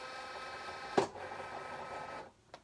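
A Cricut Explore cutting machine cuts vinyl with a steady, quiet mechanical whir, marked by a sharp click near the start and a softer click just before the end as the motor noise drops away.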